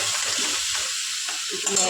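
A loud, close, continuous sizzle of bottle gourd and shrimp frying in a pan, with a few light stirring sounds.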